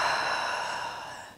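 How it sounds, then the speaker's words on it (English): A slow audible exhale during a seated desk yoga breathing exercise, a single soft breath of air that gradually fades over about a second and a half, close and alone. "Exhale."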